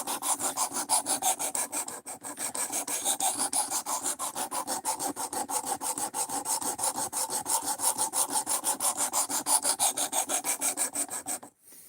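A knife edge is drawn steadily across a sharpening stone in a fast, even back-and-forth rasp, stroke after stroke for about twelve seconds, close and moderately loud, with no talking.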